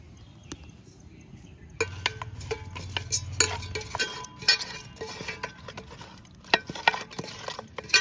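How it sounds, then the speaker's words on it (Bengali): Koi fish being rubbed by hand with salt and turmeric, producing close, wet squelching and soft clicking handling noises that begin after a quiet start and continue irregularly. "লবণ হলুদ দিয়ে ভালো করে মাখিয়ে নেব।"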